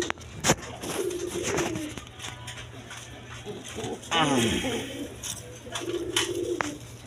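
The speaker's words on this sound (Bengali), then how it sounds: "এইখানে এক পেয়ার শাড়ি কবুতর আছে, রানিং পেয়ার" A pair of saree pigeons coos in low, rolling bursts at close range, repeating across the clip between stretches of someone talking.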